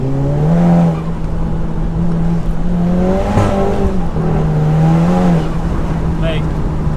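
A front-wheel-drive 420 bhp VW Golf GTI Edition 30 accelerates hard from inside the cabin, its engine drone steady and loud throughout with a brief rise in pitch, while a voice speaks over it.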